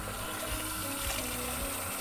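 Hot water runs steadily from a kitchen tap into a sink, a continuous close splashing rush with no voices.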